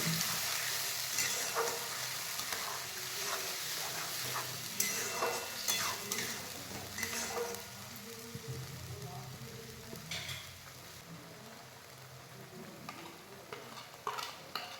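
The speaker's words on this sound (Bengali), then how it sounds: "নুন হলুদ দেওয়ার পর আমি আরও 2-3 মিনিট মশলাটা ভালো করে কষে নেব" Masala paste with salt and turmeric sizzles and fries in a pan while a spoon stirs and scrapes it, a continuous close sizzle with intermittent clinks throughout.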